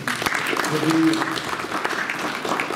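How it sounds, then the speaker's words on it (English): A crowd of course participants and families applauds themselves at the close of a mountaineering course, a steady patter of many hands clapping throughout, with a brief voice and faint tone midway. "I'd like you all to give yourselves a big round of applause"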